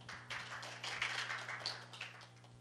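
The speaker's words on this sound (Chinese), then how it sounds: "那我们再掌声感谢一下Jackie 的分享" Sparse, faint applause from a small audience at a HITCON security talk thanking a speaker, scattered claps swelling and fading over a low steady hum.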